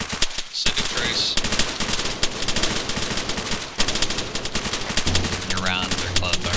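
Rapid bursts of helicopter-mounted machine gun fire rake a target during a gun run in the Arma 3 military game, sharp repeated cracks in long strings with short pauses, loud and close, with faint radio-style chatter in the mix.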